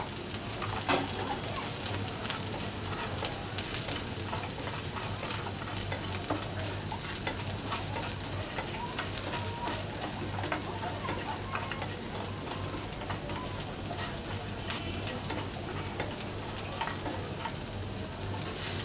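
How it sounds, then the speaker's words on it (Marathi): Whole spices sputter and sauté in hot oil for a Konkani chicken curry, a dense, continuous crackling sizzle that holds steady throughout, close up with no voices. "तेजपत्ता सोडून बाकी सगळा जो खडा मसाला आहे तो आपण त्याच्यात परतणार आहोत"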